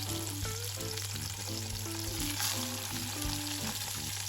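Olive oil heating in a frying pan before salmon goes in, crackling and sizzling steadily up close, with low background hum and occasional utensil tones underneath.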